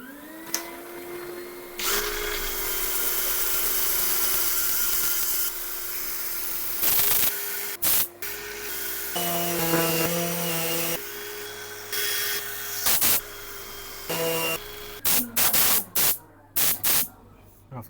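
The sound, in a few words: sanding wood on a lathe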